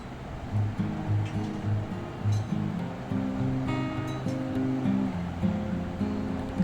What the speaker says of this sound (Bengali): এবার আমি এগুলো ভেজে তুলে নেব আস্তে আস্তে।